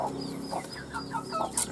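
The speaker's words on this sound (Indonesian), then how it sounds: "Ini ayam broiler ya, ayam broiler yang dijadikan ayam kampung." A broiler chicken clucking softly and repeatedly at close range over a steady background hum.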